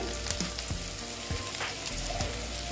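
Onions with salt and turmeric frying in a pan for a Bengali egg curry, giving a close, steady sizzle broken by a few light stirring scrapes and clicks.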